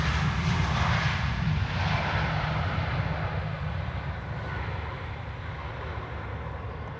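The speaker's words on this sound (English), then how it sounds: "DOT Airlines has arrived" An airliner arrives at Amsterdam Schiphol Airport with a loud, steady jet engine roar that fades gradually as it passes, heard alone.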